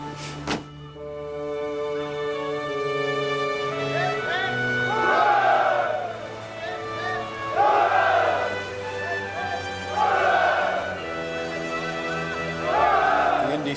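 Sailors aboard a sailing warship raise repeated bursts of cheering, about four swelling rounds of shouting over a steady tonal bed of sustained music.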